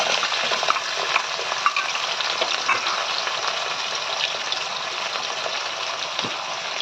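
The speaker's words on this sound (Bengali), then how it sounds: "এর মধ্যে ডুমো ডুমো করে ছোট্ট ছোট্ট করে আলু কিছু" Diced potatoes fry in hot spice tempering in a pan, giving a steady, close, unbroken sizzle with faint stirring and no voices.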